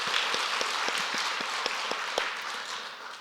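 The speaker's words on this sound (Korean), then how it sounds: "하나님께 영광의 박수를 올리겠습니다" A church congregation applauds during a Sunday worship service, steady moderate clapping from many hands filling the room at a fairly even level throughout, with no voices over it.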